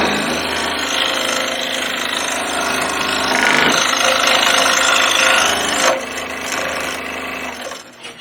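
A scroll saw cuts through wood in a continuous, loud, close buzzing rasp with rapid blade chatter, easing off briefly near the end.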